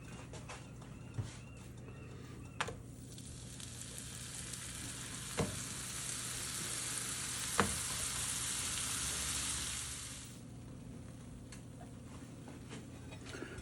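Slider patties fry in a pan with a steady, soft sizzling hiss that stops abruptly near the end, broken by a few faint clicks and taps.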